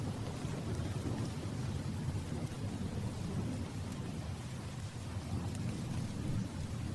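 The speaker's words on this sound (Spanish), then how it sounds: "La tormenta llegó sin aviso." A thunderstorm with steady heavy rain pours down, a dense continuous wash of rainfall with low thunder rumbling underneath throughout.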